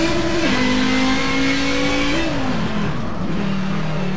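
A Group 5 race car in Forza Motorsport revs hard through very short gears, its loud engine tone climbing, dropping at each quick upshift, then climbing again, close and alone with no talk.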